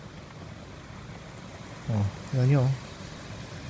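Steady gusting wind during a typhoon forms a constant rushing backdrop, while someone speaks two short exclamations over it near the middle.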